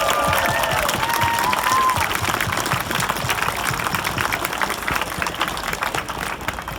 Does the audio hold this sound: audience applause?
yes